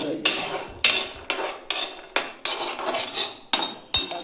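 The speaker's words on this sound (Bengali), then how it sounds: "সবসময় নাড়াচাড়া করতে করতে দুই সাইড বাজাই দিব।" A spatula scrapes and knocks around a hot kadai as pointed gourd (potol) fries and is turned over and over, about eight sharp metallic strokes in a steady rhythm, close and clear, with no voices.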